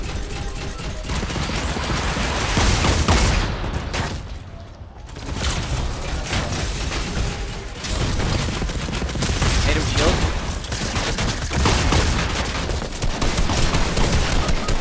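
Dense, rapid gunfire from the video game Fortnite crackles almost nonstop in loud bursts, with a short lull partway through before the shooting resumes, mixed with game sound effects.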